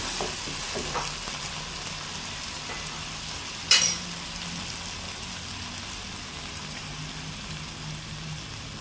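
Sausages cook in a pan with water, giving a steady, moderate sizzle and bubbling with a brief clatter partway through and no voices.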